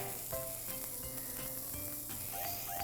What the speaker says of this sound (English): I'm gonna put them in the hot pan.